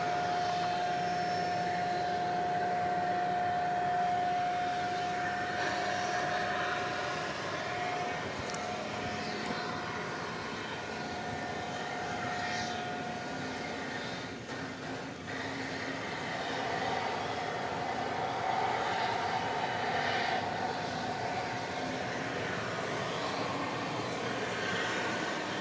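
A jet airliner heads west off DFW Airport at night, its engine roar a steady broad rumble with a faint whine, holding at an even level from start to finish.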